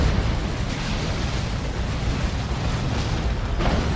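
Venom Cannon fire from a Carnifex in a Dawn of War 2 Tyranid battle produces a dense, continuous roar of booming explosions and rumbling blasts, loud throughout with no voices.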